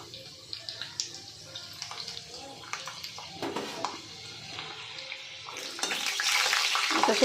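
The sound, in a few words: peanuts frying in hot oil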